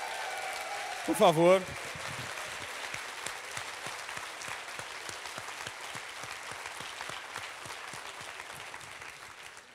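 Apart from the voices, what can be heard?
audience applause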